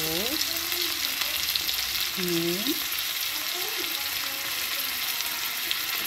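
Egg and peas fry in a pan for veg pulao, a loud, steady sizzle that runs unbroken throughout, with a few faint tonal chirps drifting over it.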